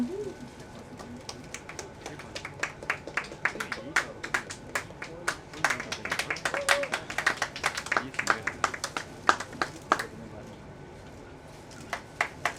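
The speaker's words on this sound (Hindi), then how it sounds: "तालियां बजती रहनी चाहिए प्लीज" Steady crowd applause at a music launch event, a mass of sharp claps continuing for several seconds before thinning out, heard from within the room.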